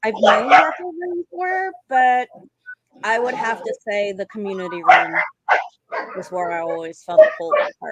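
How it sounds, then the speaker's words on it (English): A dog barks faintly in the background of a home interior while someone talks steadily in the foreground, the barks partly buried under her voice. "Sorry about the dog in the background."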